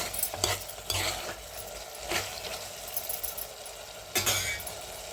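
A spatula stirs bottle gourd curry made with milk in a pan, giving a few scraping strokes and soft clinks spaced apart over a low background hiss, close and fairly quiet.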